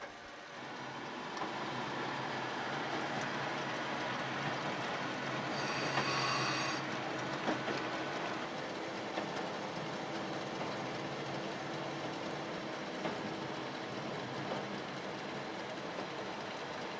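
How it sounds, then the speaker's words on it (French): An X2800 diesel railcar coasts downhill on the rails into the Allier valley toward La Bastide, giving a steady, close rolling rumble with faint wheel clatter and a brief high squeal partway through. "L'autorail vient de basculer dans la vallée de l'Allier naissant et n'a plus qu'à se laisser descendre jusqu'à la Bastide."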